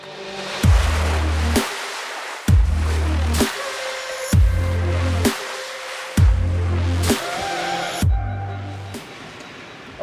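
A malfunctioning sailboat autopilot at sea, making a loud, repeating pattern of electronic warbles and beeping tones, each burst ending in a low droning tone, cycling steadily with short gaps, close by and without talk.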